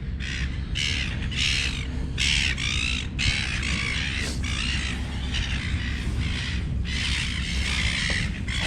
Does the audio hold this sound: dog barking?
no